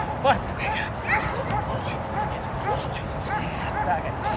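A police K9 dog barks and yips in quick, repeated bursts during a bite demonstration, close and loud, while people talk over the commotion.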